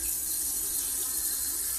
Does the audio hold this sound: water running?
yes